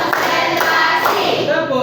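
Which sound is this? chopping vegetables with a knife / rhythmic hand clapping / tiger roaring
rhythmic hand clapping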